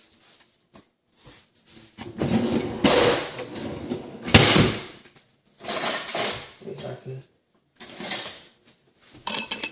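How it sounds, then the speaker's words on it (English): Metal utensils rattle and clink in bursts as someone rummages through a kitchen drawer or pile of cutlery for a knife before making a cheese egg omelet, with clattering clusters separated by short quiet gaps. "So I guess I gotta get a knife."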